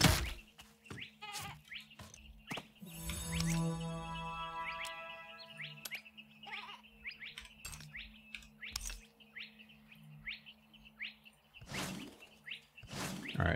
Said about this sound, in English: I hear the freaking kangaroo sheep